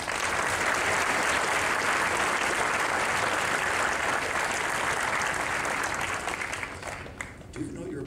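An audience at a talk breaks into sustained applause, dense and steady clapping from a full room lasting several seconds before thinning out toward the end.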